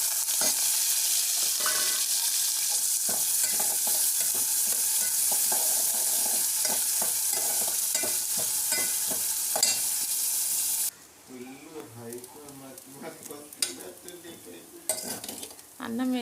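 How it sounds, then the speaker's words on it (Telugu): Onions fry with cumin and chana dal in a pan for fried rice, giving a loud, continuous close sizzle under repeated stirring scrapes. Partway through, the sizzle drops and utensil clinks and scraping come forward. "ఆనియన్ వేసుకుంటున్నామండి."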